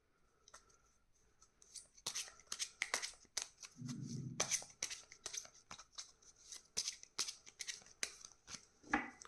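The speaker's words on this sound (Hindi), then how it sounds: "मैं आपके लिए कार्ड निकाल रही हूँ" Tarot cards are drawn and handled in a pick-a-card reading: quiet, close card snaps, flicks and shuffling slides in an irregular patter, with a brief soft thud partway through and no talking.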